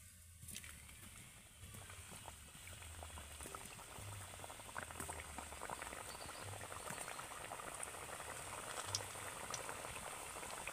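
Wheat flour biscuits deep-frying in hot oil, a steady dense bubbling sizzle that holds evenly throughout at moderate level, with no voices.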